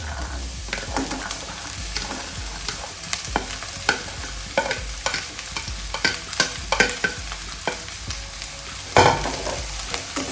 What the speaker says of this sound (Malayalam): ഇനി ഇതിനകത്ത് നമ്മളിപ്പോൾ ഈ അരിഞ്ഞ് വെച്ചിരിക്കുന്ന കോവയ്ക്കയില്ലേ അത് ഇട്ട് കൊടുക്കാം.